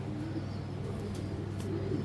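A giribaj pigeon coos softly in the background, its low murmuring calls faint under a steady hum, with no talk.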